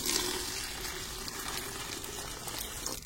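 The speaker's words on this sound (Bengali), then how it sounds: "এর সঙ্গে আমি মিশিয়ে নেবো দেখুন প্রায় 1 লিটার জল।" Water pours steadily into a bucket holding mustard cake fertilizer being mixed for feeding rose plants, a continuous splashing wash with no talk over it.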